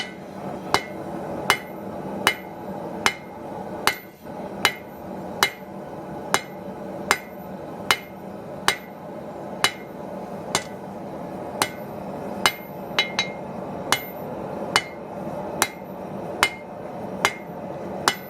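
A blacksmith's hammer strikes orange-hot metal to flatten it, ringing out in a steady, evenly spaced series of sharp metallic blows, roughly two per second, with a quiet hum underneath and no talk.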